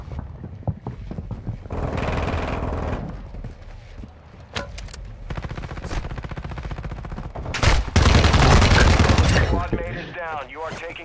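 Call of Duty DMZ gunfire cracks in scattered single shots and longer automatic bursts, loudest near the end, with voices talking between and over the shooting.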